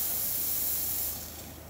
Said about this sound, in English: Purge, we have a nice dry hot steam.